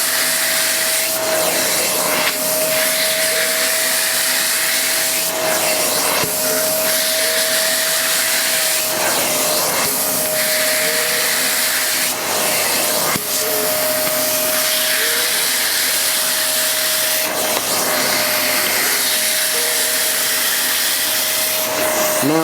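A Vax Rapide Ultra 2 carpet washer runs continuously across carpet, its loud, steady suction motor roaring with a constant whine, punctuated by faint bumps as the nozzle strokes back and forth.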